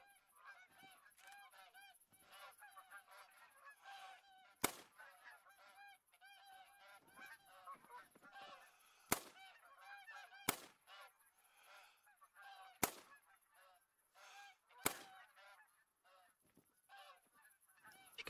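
Canada geese in the hunting game theHunter: Call of the Wild honk repeatedly, a flock calling steadily throughout, with several sharp loud clicks or shots breaking in at intervals.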